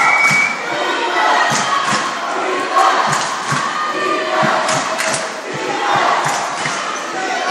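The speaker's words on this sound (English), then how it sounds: "The crowd is getting loud here as we have an exciting game in this conference championship game" Loud crowd at a girls' conference championship basketball game in a school gym, cheering and shouting in waves over the thud of a bouncing ball, with an announcer talking over the din.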